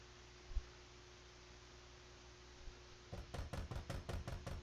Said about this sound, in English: Why everybody knocking on my door?